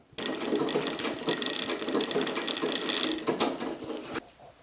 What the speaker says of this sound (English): Start the flywheel moving towards you and the bobbin will wind.